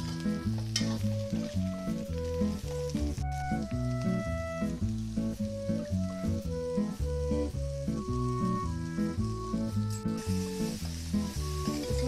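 Brinjal cooks in a pan with a steady sizzle. Soft, rhythmic stirring and clinking run under it, along with a prominent pattern of background tones, and nobody speaks.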